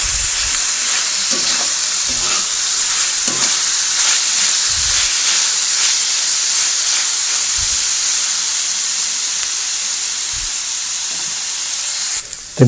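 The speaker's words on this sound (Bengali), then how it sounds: "এটা খানিকক্ষণ একটু ফ্রাই করে নেবো।" Onion and chilli fry in a pan with a continuous bright sizzling hiss. Occasional soft low thumps come from the pan.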